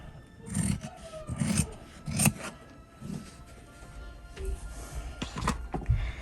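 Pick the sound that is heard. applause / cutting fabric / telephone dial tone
cutting fabric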